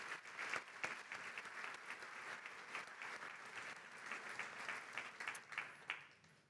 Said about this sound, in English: Let's give our Analytical Insights category a round of applause